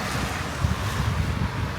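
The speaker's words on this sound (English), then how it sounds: "It's a little bit windy, so hopefully I can be heard." Steady low rumbling wind buffeting a microphone, a continuous roar with gusty surges throughout and no other sounds breaking through.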